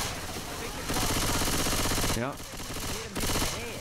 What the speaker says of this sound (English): Keep shooting the ammo